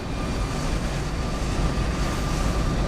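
An ATR turboprop airliner arriving in Microsoft Flight Simulator 2020 at Edinburgh produces a steady, dense low engine drone with a faint tonal whine, heard alone and constant throughout.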